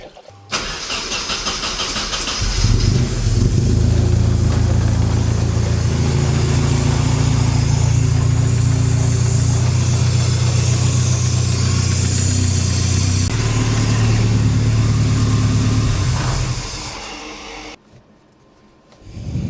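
A turbocharged Datsun wagon engine with a GT3582 turbo starts, then idles loudly with a steady low rumble for about fifteen seconds before shutting off.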